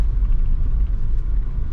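A car rolls slowly over a dirt track into a car park in the Pilbara, with a steady, loud low rumble of tyres and engine close up and no talk.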